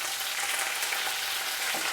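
Garlic and curry leaves sizzle steadily in hot oil with red chillies, a dense, even crackle that stays close and constant throughout, with no talking.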